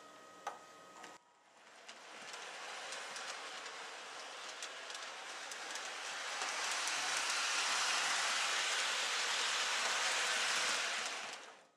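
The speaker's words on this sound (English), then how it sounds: "Pressing direction again will get the train running in reverse." Model train powered by a CW80 transformer running in reverse, a steady rushing rattle of wheels on track that builds and grows louder midway, then cuts off abruptly at the end.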